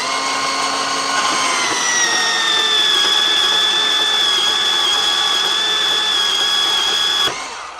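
A Makita 18-volt cordless power tool runs at a steady high-pitched whine for about seven seconds, during an HVAC job. It is loud and close with no talk, then it cuts off abruptly.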